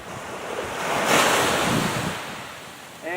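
Ocean surf washing in with a steady roaring rush that swells and fades, mixed with heavy wind noise on the microphone, close and continuous with no talk.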